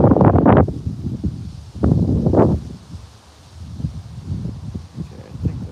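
Wind buffeting a microphone outdoors beside a BNSF railway line, loud rumbling gusts that rise and fall, strongest at the start and around two seconds, then calmer with lighter rustling.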